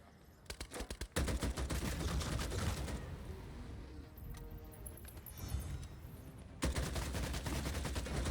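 Rapid bursts of gunfire from the Blood Hunt video game crackle in dense volleys, a sustained spell of repeated shots at the start and again at the end with a quieter, scattered stretch between.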